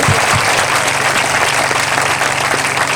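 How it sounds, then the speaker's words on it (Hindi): A church congregation clapping loudly in thanks to God, a dense continuous roar of hand claps filling the whole stretch, close and loud with no talk over it. "जोरदार जोरदार जोरदार ताली बजाकर प्रभु को धन्यवाद दे।"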